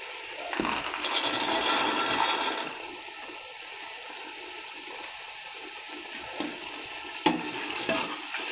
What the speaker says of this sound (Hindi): अब मैं इसमें मटर शामिल करके उसको अच्छी तरह से भून लेती हूँ।